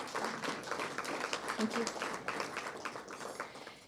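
A conference audience at an industry meeting on the energy transition applauds a presenter with steady, fairly distant clapping, while a voice speaks briefly over it.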